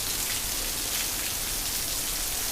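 Torrential downpour roars steadily and loudly outdoors, a dense, unbroken hiss of heavy rain striking surfaces with no pauses and no voices.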